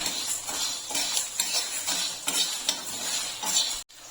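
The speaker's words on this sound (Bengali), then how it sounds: "শুকনো লঙ্কা ধনেটা হালকা একটু প্রথমে নেড়ে নিচ্ছি" Dry red chillies and coriander seeds are stirred in a pan for an amla pickle spice mix, producing rhythmic dry scraping and light rattling strokes with a faint sizzle underneath.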